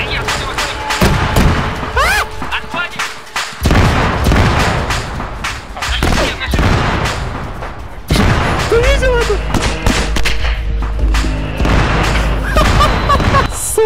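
Repeated explosions and gunfire in a chaotic game fight, booms and thuds landing loud and close among engine noise, with voices shouting over them.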